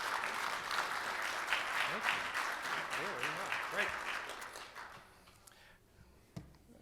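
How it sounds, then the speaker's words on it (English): Steady audience applause at a Rotary club meeting fills most of the clip, then thins out and fades to scattered claps, with a brief spoken word over it. "Let's give him another round of applause."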